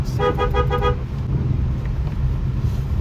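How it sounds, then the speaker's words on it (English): A Celerio hatchback races a Porsche 911 Carrera on the road, heard as a steady engine and road roar from inside the car, with a few quick horn toots at the start. "Guys, we're racing a Porsche and we're winning"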